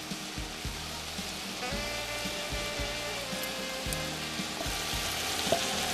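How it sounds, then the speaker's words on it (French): Eggplant frying in a pot, stirred so it does not catch on the bottom: a soft, even sizzle runs throughout, with low, regular scraping strokes, and no one is speaking. "Continuez à brasser pour que les aubergines ne crament pas, c'est-à-dire brûler au fond de la marmite"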